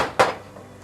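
A metal tray of tater tots pulled out of an oven: a single close clatter of the sheet pan scraping and knocking against the rack, followed by a softer faint rattle.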